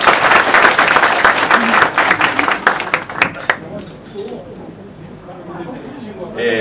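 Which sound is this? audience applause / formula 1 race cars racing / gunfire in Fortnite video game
audience applause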